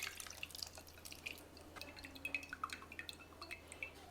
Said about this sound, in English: You just drain out all the water.